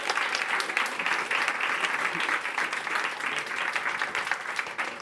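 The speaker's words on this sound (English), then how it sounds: "so give yourselves a round of applause." An audience at a corporate talent-series panel show gives itself a full round of applause, dense and steady clapping sustained throughout at an even level, with a faint murmur beneath.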